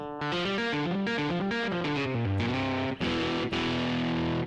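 A sampled electric guitar voice with a heavy distortion effect plays a run of notes, each with a crunchy, buzzing tone. The notes are loud and up close.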